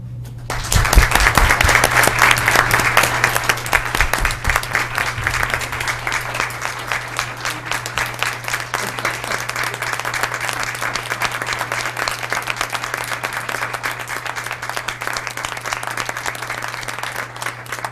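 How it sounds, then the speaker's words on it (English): A Board of Education audience breaks into rousing applause for a teaching award, dense sustained clapping from many hands that holds strong for the full stretch over a low steady hum. "I thank you for such a rousing applause"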